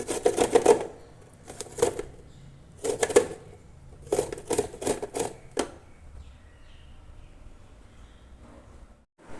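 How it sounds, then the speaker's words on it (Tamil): Indian gooseberries (amla) are grated by hand in bursts of quick scraping rubs, several separate clusters of rasping strokes that fade into quiet near the end, close and clear with no talk. "நெல்லிக்காய்கள் நம்ம துருவி எடுத்தாச்சு."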